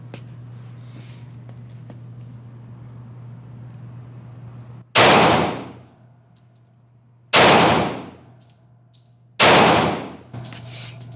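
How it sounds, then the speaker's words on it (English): Three loud, sharp gunshots ring out at steel targets a couple of seconds apart, each with a long decaying ring, fired with iron sights only and following a stretch of quiet hum. "Now I'm going to shoot using the sights only."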